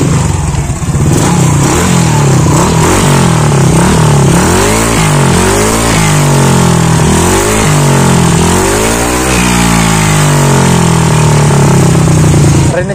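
A motorcycle engine fitted with a JBT version 3 exhaust revs repeatedly, loud and close, rising and falling in a string of aggressive throttle blips, with no talking.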